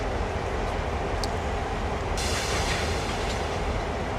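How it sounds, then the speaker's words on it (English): Heavy-haul CSX freight train rolling in the Train Sim World game, a dense continuous rumble of wagons and wheels on rail with faint squeals and a brief clank, steady and close throughout. "train is not supposed to be coming with me."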